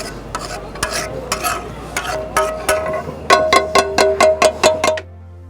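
Chicken liver stirred and chopped with metal spatulas on a hot tawa in Lahore, a fast run of sharp rhythmic clanks over a steady sizzle, the strikes quickening and growing louder toward the end.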